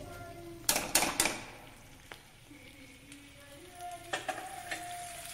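Mustard seeds popping in hot oil for tamarind rice, a soft frying sizzle broken by several sharp crackling pops in small clusters, close by with no talking.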